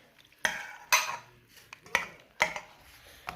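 A spoon clinks and scrapes against a pot while stirring pasta with water and spices for a meat pasta gratin, four or five sharp knocks spaced under a second apart with soft swishing between.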